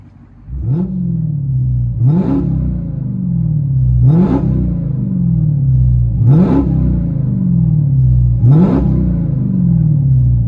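Heard from inside the cabin, the supercharged V8 of a Dodge Charger Hellcat with Flowmaster exhaust idles in a steady rumble, broken by five evenly spaced rev blips, each rising sharply and falling back.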